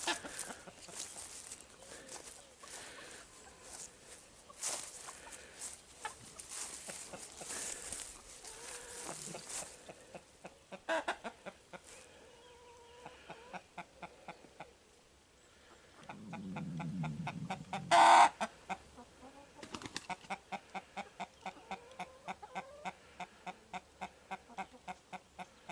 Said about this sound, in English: And we can talk to the chickens, and the chickens talk back.